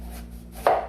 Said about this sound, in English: So I'm going to cut it first.